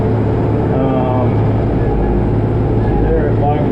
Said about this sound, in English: So with this tractor, this is a DK5310. It is hydrostat.